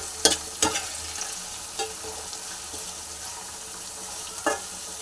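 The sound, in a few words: stirring chopped onions with salt in a pan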